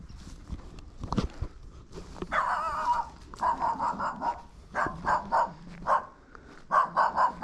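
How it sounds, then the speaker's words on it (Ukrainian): A dog barks repeatedly in a rural village near an abandoned shed and bushes, a string of loud, closely spaced barks in uneven bursts, with a few softer shuffling sounds at the start. "Якась собака гавкає."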